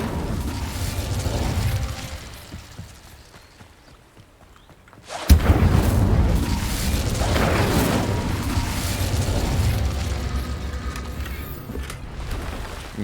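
An Incendio fire spell cast in Hogwarts Legacy sets off a sudden fiery burst after a quiet stretch, followed by sustained crackling and rumbling flame.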